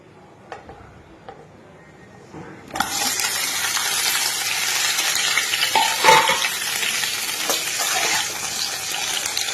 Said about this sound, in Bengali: এবারে কড়াই দিয়ে দিয়েছি একটু সর্ষের তেল আর দিয়েছি দুটো শুকনো লঙ্কা আর একটু পরিমাণ মতো পাঁচ ফোড়ন দিয়ে ভালো করে নাড়াচাড়া করছি